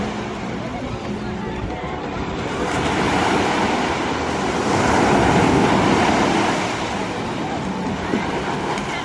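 Ocean surf at Zihuatanejo, Mexico, a loud continuous wash of waves that swells and recedes, with wind noise over it and no clear talk.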